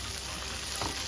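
Sausage fries in hot oil in a pan, giving a steady, close sizzle with a faint scrape or stir near the end and no talk.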